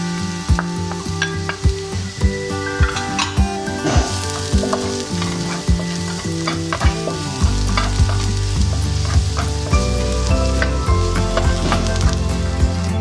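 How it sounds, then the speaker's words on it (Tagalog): Onion and garlic sauté in a pan for pork trotter kare-kare, with a loud continuous sizzle and frequent scrapes and knocks of a utensil stirring close by. "Ilalagay na po natin yung sibuyas. Igisa po natin. Susunod na po natin yung bawang."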